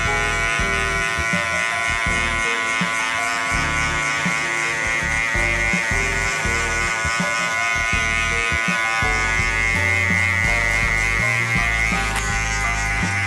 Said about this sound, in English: we're moving on to our next step, which is this clipper right here